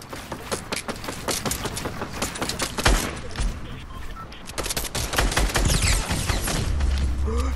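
Rapid gunfire in the Fortnite video game, dense bursts of sharp shots and automatic fire that keep crackling throughout, with a heavier thump in the middle and a steady rattle toward the end.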